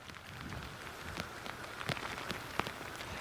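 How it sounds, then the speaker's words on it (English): Steady rain coming down in Venice, Florida during Hurricane Milton, a continuous broadband hiss of falling water with scattered louder drop impacts, fairly faint and even throughout, no voices. "we're already seeing the impact here with the rain coming down"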